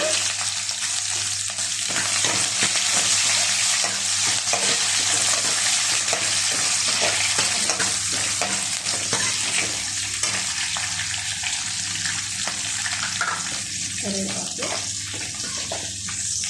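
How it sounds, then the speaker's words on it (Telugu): Mustard seeds and chopped onion sizzle steadily in hot oil in a pot, a loud continuous frying hiss with light stirring clatter throughout, no voices over it. "చూడండి ఆవాలు ఎగిపోయాయి ఆనియన్ చేసేసుకున్నా"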